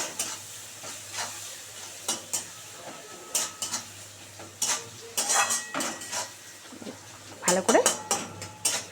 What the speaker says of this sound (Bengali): পেঁয়াজটা খুব সুন্দর করে আমি ভেজে নেবো